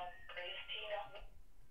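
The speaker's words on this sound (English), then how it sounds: "And the phone's ringing." A telephone rings once, a short buzzing trill that is fairly faint under low background noise.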